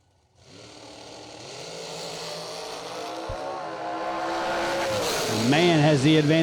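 Drag race cars idle and build revs at the start of a million dollar bracket race, a rising engine drone that climbs louder toward the end while an announcer talks over it.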